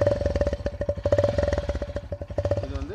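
A Honda motorcycle with a homemade modified silencer, a rod looped into the pipe with a 5 cm gap, starts and runs at a close, loud, rapid throbbing putter that wavers slightly in pace.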